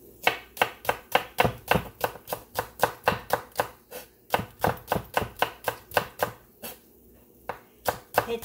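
A knife chops shallots on a board in quick, even strikes, roughly three a second, with a brief pause before the rhythm resumes.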